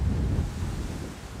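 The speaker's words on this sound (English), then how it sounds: "Wow, that wind is crazy." Strong wind buffeting the microphone at Manchester Airport, a steady low roar that stays loud and constant throughout.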